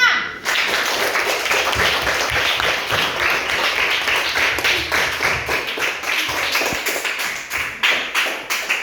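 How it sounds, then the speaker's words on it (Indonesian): A classroom of students claps for group 5, a fairly rhythmic, loud burst of close hand claps that keeps up steadily for almost nine seconds. "Tepuk tangan untuk kelompok 5."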